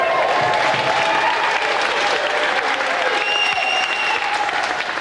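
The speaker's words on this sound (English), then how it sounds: "Round of applause again for Nick." A television game show studio audience gives a sustained round of applause, dense and even throughout, with faint voices underneath.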